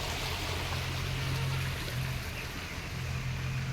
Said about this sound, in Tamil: பம்பு செட்டு நீர் பாசனத்துக்கு ஓடிட்டுருக்குது.